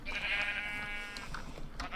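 A sheep in a video game lets out a clear, wavering bleat near the start, followed by quieter scattered game sounds.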